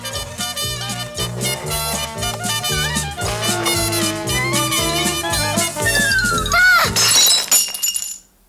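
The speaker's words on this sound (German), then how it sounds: "Jetzt ist der Teller kaputt." A plate breaks in a living room, a sharp shatter of ceramic near the end, rising over a loud backdrop of music that cuts off just after the crash.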